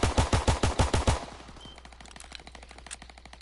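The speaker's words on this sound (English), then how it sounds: "I fired off when I wasn't aimed in. And it's rapid fire." Rapid gunfire from a gun in a WW2 video game, a loud, evenly spaced burst of about eight shots, followed by quieter game sounds and softer clicks.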